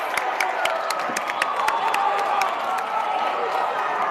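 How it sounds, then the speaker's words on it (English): Gymnasium crowd at a college basketball game, McDowell vs Benedictine, roars and applauds steadily after a blocked shot, with sharp individual claps and shouts popping through a dense, continuous wall of cheering. "Listen to this crowd."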